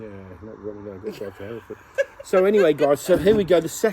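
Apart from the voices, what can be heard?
No distinct noise like a dog, phone or traffic.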